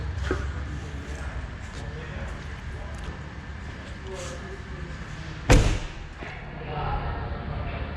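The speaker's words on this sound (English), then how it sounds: "These doors are so thick and heavy." One heavy, solid thud of a bulletproof Mercedes G-Wagon's thick armored door slamming shut, close by, standing out against a steady low background rumble.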